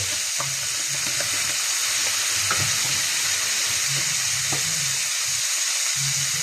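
Soy sauce hitting a hot frying pan with meat, a loud continuous sizzle with a few scraping stirs, close up and with no one talking.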